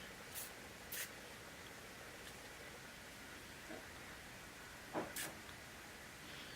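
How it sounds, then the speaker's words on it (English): A spray bottle of Sephora Dry Clean brush cleaner spritzing a few short bursts, two hissing sprays near the start and another pair near the end, faint against quiet room tone. "What it says to do is just spray it."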